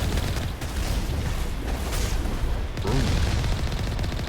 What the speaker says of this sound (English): And they're firing at us from so far away.